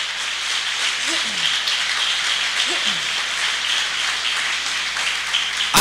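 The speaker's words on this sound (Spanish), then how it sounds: "Dale un aplauso bien fuerte al Señor" A church congregation applauding, a steady crackling patter of many hands that holds evenly for several seconds, with a voice speaking faintly beneath it.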